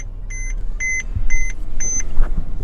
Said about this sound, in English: Beeping at me.